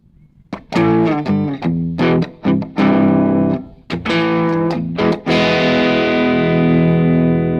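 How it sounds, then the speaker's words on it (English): Electric guitar run through a Strymon pedal with its tone set to a mid-range voicing, playing a distorted chord followed by a series of picked bass-note changes, then a final chord left to ring out. "I'll just play a chord and then kind of move the bass"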